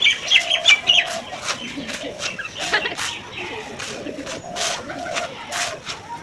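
Pigeons at a farm in cold weather give short, repeated coos and calls in an uneven rhythm, close and fairly loud, with faint chirps scattered among them.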